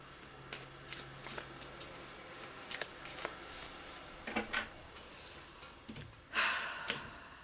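Tarot cards shuffled and drawn by hand, a string of soft riffling flicks and slaps close by, ending in a louder burst of shuffling, with no talking.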